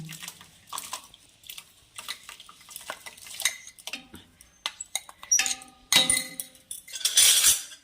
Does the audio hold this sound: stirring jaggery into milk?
yes